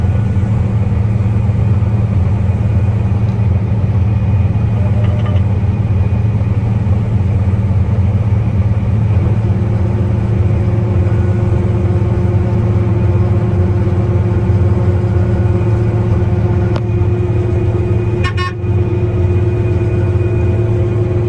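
Combine harvester engine running steadily through a winter wheat harvest, a loud continuous low drone with a strong steady hum and no pauses from start to finish.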